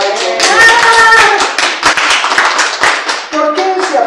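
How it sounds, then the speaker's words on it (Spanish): Loud, close applause on a talk show set mixes sharp individual claps with excited voices and shouts, with a tonal musical or vocal sound coming in and out over the clapping. "Un fuerte aplauso."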